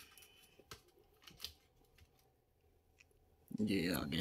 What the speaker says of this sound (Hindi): कीबोर्ड ओपन कर लेंगे इसका।